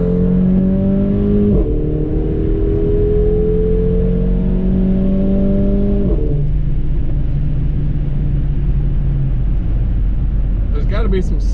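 Mercedes GLA45 AMG driving on wet roads with a strong vibration, a loud steady engine and road rumble inside the cabin with shifting tonal whine and a brief faint sound near the end.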